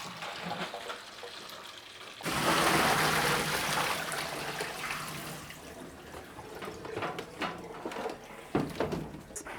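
Water runs while 8x10 color film from a C41 kit is rinsed and washed, a strong gush starting about two seconds in and then easing into steadier splashing and dribbling, with some faint handling knocks.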